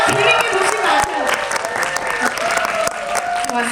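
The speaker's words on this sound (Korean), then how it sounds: "더 크게 좀 박수 부탁드립니다" Audience applause with some cheering greets actors Kang Hae-rim, Lee Dong-hwi, Park Byung-eun, Choi Si-won and Cha Joo-young as they enter a Korean film screening Q&A for Lobby; loud, dense clapping throughout.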